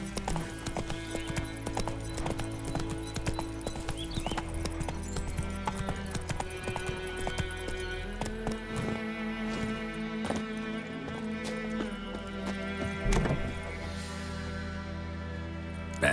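A horse's hooves clip-clop at a steady gallop in The Witcher 3, a continuous, fairly close rhythmic beat with faint game ambience beneath and a brief louder jolt near the end.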